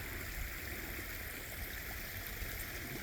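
Water bubbling up from below through a pond biofilter, a steady close gurgling and splashing wash that runs evenly throughout with no talk.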